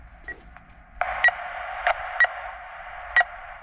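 Falconry telemetry transmitter switched on after a fresh battery goes in, giving a steady electronic tone with four sharp beeps spaced irregularly over it, close and fairly quiet, with no talking.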